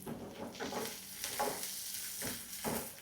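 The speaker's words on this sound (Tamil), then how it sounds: "நல்லா வதக்கணும்." Sliced onions, garlic and ginger sauté in hot oil with a continuous soft sizzle, punctuated by periodic scraping stirs of a spatula in the pan.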